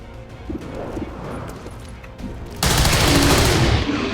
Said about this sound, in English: So let's fire.